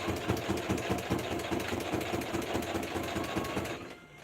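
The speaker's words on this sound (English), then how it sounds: "make sure that I'm not sewing to the back of the jeans" A sewing machine stitches across a denim jeans pocket, running at a steady, rapid mechanical chatter for about four seconds before it stops, close and alone with no talking.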